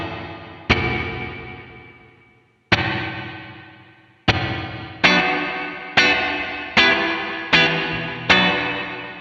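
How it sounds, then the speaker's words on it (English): Plucked electric guitar notes pass through a compact plate reverb pedal set to a moderate decay and mix; each attack rings out with a smooth shimmering tail, sparse at first, then coming faster. "We just want an everyday workman's kind of plate reverb."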